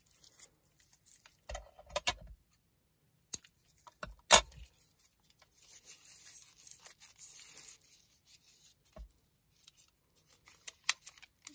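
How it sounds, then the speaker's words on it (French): Scissors cut two pieces of raffia, making several sharp, close snips with faint rustling of the strands between cuts. "Je vais couper 2 morceaux et puis je vais mettre ça pour faire la finition du tag."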